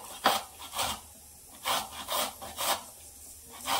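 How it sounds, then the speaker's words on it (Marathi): Raw carrot rubbed against a kitchen grater in a home kitchen, heard as several separate rasping strokes, some longer and some shorter, close and fairly quiet, with short pauses between them and no talking. "तर हे गाजर आहे ना चांगलं असं किसून घ्यायचं।"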